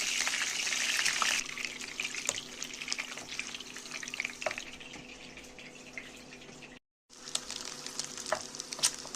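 Eggs sizzle and crackle in a pan while being cooked for a dal tadka, a steady close frying hiss with light clinks and a momentary cut, no talking.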